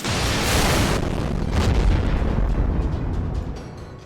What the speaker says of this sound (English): Alright, I think that calls for another cannon blast!